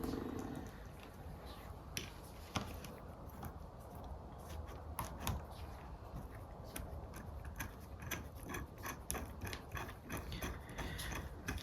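A socket on a small extension ratchets bolts into a Versa-matic assembly from a 1960 Bolens Ride-a-matic, with rapid clicking pawl ticks in irregular runs, close and quiet.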